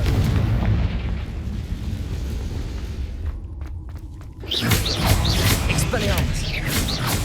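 Confringo blasting spell explosions in Hogwarts Legacy thunder as heavy, rumbling booms, a sustained roar that briefly thins then surges back with sharp crackling bursts.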